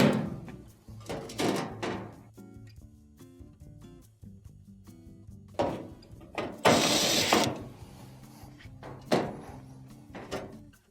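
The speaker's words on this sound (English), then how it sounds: "Let's bring back in our screws and our cover. What we'll do first is just reinstall the 2 on the ends." Screws and a cover plate being put back onto an LG dryer during a water inlet valve repair, heard as a series of close clicks, ratcheting turns and metallic knocks with a brief louder scraping burst midway.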